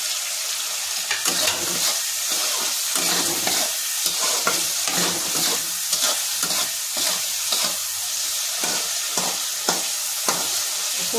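Paneer and tomato fry together in a pan with a steady sizzle, while a spatula stirs and scrapes in a regular rhythm of short strokes roughly every half second, close and fairly loud with no voices.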